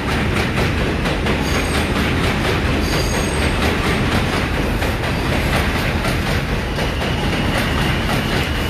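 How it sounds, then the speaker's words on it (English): Train passing close by, loud continuous rumble with rhythmic clickety-clack of wheels over rail joints and brief high squeals, sustained throughout. "There's that magical train again."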